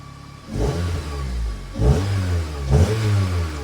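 Acura TSX engine revved through a newly installed Comptech cat-back exhaust: three short throttle blips with deep, throaty exhaust rumble, close and loud, each rising then falling back toward idle.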